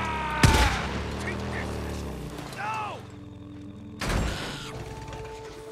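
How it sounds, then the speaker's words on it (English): Gunfire in the video game Days Gone: a sharp loud burst near the start and another about four seconds in, with mechanical creaks and game ambience between them. "I thought I heard gunfire."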